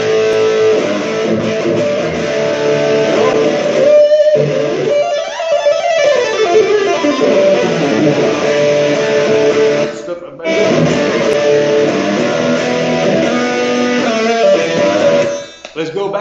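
A LAG guitar with a freshly replaced pickup plays through an amplifier, a dense, sustained strummed and picked passage close and loud, with a couple of brief pauses between phrases.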